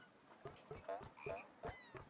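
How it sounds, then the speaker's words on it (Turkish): Toad croaks from the video game TOEM, several short, bright croaking calls spaced irregularly over a quiet background, fairly close and clear. "Kurbağa. Kara kurbağası."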